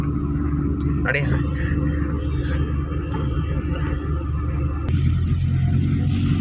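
A car driven smoothly by a woman gives a steady low engine and road rumble throughout, with someone talking over it and a couple of brief clunks.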